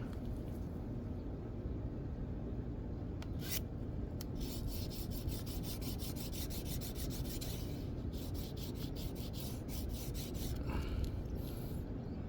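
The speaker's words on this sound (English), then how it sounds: "first off we're gonna sharpen the knife here" A fish-filleting knife is drawn over a sharpener in quick rhythmic scraping strokes, close and fairly quiet, coming in bursts with short pauses over a low steady background.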